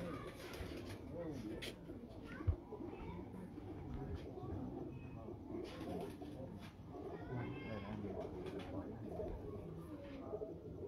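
Lal Toofan pigeons on a rooftop loft cooing softly amid faint bird calls, low and somewhat distant, with someone talking over them throughout.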